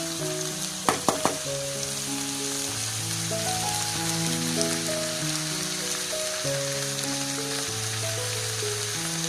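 Steady, dense sizzling of green beans with minced meat frying in a pan, crackling continuously close by, with a few sharp clicks early on and background music playing throughout.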